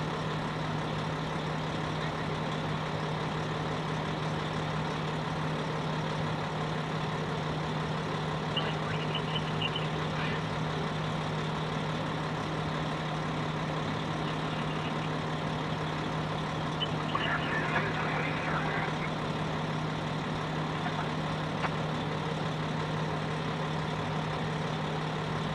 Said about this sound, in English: I'm sorry about the fire truck noise